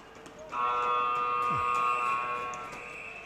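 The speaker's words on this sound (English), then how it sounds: "as Levanek clears it down the floor, the buzzer goes" An end-of-period horn sounds in an indoor arena at a ball hockey world championship game in Pardubice, Czech Republic, a loud sustained electronic blare of about two seconds over crowd noise, then fading.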